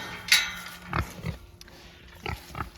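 Pigs out on fresh grass give short, scattered grunts, a few close snorts and oinks spaced across a few seconds, with no talking over them.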